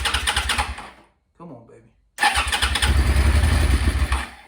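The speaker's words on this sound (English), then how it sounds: "Let's see if we can get this thing to crank now." A Suzuki SV650 motorcycle, back together after sitting six years, cranks with its starter in rapid mechanical bursts. After a brief pause it turns over again longer and harder, and someone speaks briefly between attempts.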